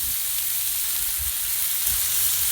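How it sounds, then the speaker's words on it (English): Bacon sizzles steadily on a hot griddle, a continuous crackling hiss with small pops, close and fairly loud. "Nothing like the sound of bacon sizzling, is it?"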